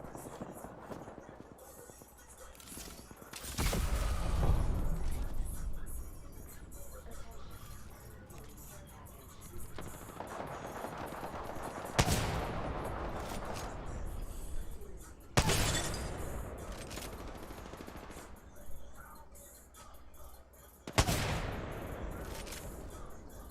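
Video game gunfire: several loud, sharp shots and bursts separated by long gaps, each followed by a fading tail, with a player talking throughout.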